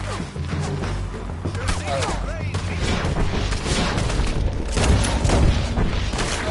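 Rapid gunfire from a Red Dead Redemption 2 shootout, with dense overlapping shots and booming reports, keeps up steadily and loudly over a noisy background.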